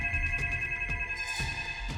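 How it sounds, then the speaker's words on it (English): A telephone rings with a steady electronic tone over a low rumbling background, continuous and fairly close, with no voices. "The phone was ringing again."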